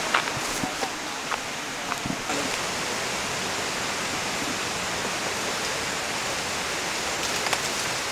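A fast-flowing river fed by a waterfall, heard along a jungle trail in North Luzon, roars as a steady, dense broadband rush throughout, with a few faint knocks near the start.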